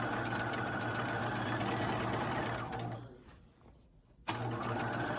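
A sewing machine runs a long basting stitch along a skirt panel, a steady mechanical whir that stops briefly near the end and then starts up again.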